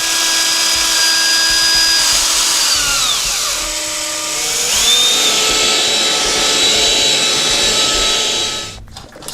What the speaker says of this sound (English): it's a lot of little holes to ream